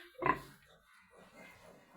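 A single short piglet grunt rings out up close in a cage, followed by faint soft snuffling and shuffling.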